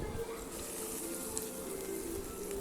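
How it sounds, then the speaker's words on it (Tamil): Cashews and raisins fry for paal payasam, giving a steady, soft sizzle with a faint bubbling patter throughout, close and even, with no talk over it. "முந்திரி திராட்சை நம்ம வந்து சேர்த்துக்கலாம். சேர்த்துட்டு நல்லா கலந்து விட்டு நம்ம நல்லா வறுத்துட்டு"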